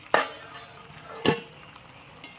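A metal pot lid clinks twice as it is lifted off a pan of jackfruit and beef fat curry, with a faint third tap near the end; sharp, close metallic knocks over a quiet kitchen.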